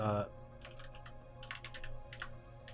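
A computer keyboard being typed on, a command entered through several short bursts of light, quick clicking keystrokes, close and fairly quiet over a faint steady hum.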